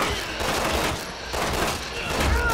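Rapid gunfire in the video game Resident Evil 6 forms a dense, continuous burst of loud shots and booms, steady and close throughout with no clear gaps.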